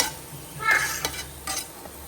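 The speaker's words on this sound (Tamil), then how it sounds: "இப்போ இதே நெய்யில முந்திரியும் பாதாமும் போட்டு வறுத்துக்கிறேன்" Cashews and almonds fry in ghee in a pan, with a soft sizzle under a few quick stirring scrapes and clinks of a spoon, close and fairly loud.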